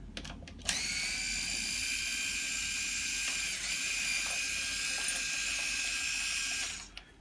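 A power screw gun backs a screw out of a Bugaboo Donkey stroller with a steady, high ratcheting whir lasting about six seconds, starting and stopping abruptly, alone and fairly close.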